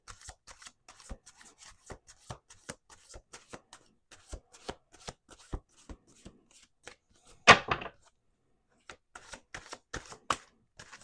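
A deck of tarot cards is shuffled by hand in a series of soft, irregular snaps and riffles, with one denser burst midway, quiet and close with no talking.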